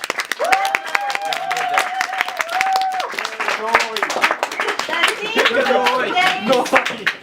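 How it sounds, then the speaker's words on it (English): A crowd claps and applauds, with voices and a tonal sound mixed in over the clapping. "Let's have a round of applause"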